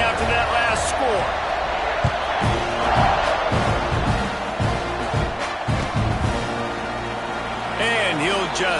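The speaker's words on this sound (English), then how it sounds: "this crowd is buzzing after that last score" A football stadium crowd keeps up a busy murmur after a touchdown, with scattered shouts and thuds. A commentator talks over the crowd noise as a steady mid-level background.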